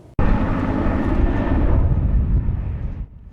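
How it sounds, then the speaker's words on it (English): Helicopter responding to the Borel wildfire in Kern County, its loud engine and rotor roar cutting in abruptly, holding steady and close for about three seconds, then dropping away at the end, with no talking. "As helicopters respond to the Borel fire and flames continue to burn"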